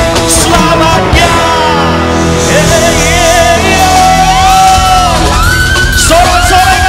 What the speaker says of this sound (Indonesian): Teriak sama-sama dengan iman.